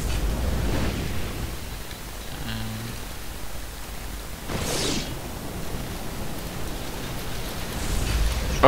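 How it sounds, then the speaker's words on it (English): Heavy rain pouring down outside a window, a steady broadband hiss that runs throughout, quiet and continuous behind faint game sounds. "there is like pouring down with rain at the moment."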